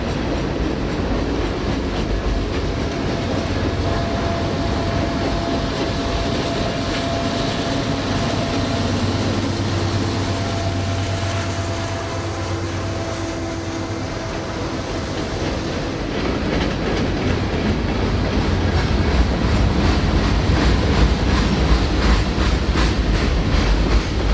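A 140-car manifest freight train nearly 9,000 feet long rolls steadily past at close range, continuous rumble and rhythmic clickety-clack of wheels on rail joints, loud and unbroken with no voices.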